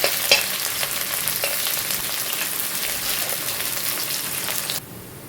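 Onions fry in hot oil in a pan for a mutton curry, a busy close sizzle and crackle with occasional stirring scrapes. The sizzle stays steady and then drops off abruptly near the end.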